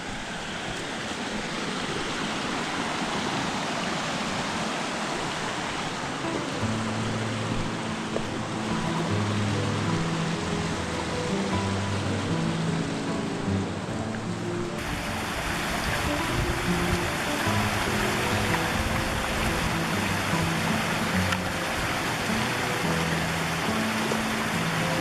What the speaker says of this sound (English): I've come up closer to the creek now again.